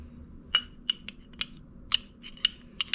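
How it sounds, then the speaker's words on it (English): A spoon clinks against a dish while pressing chia pudding into place, giving about a dozen sharp, light metallic taps in an irregular rhythm, close and clear over a quiet hum. "I'm just kind of going around with the spoon and pressing it into place."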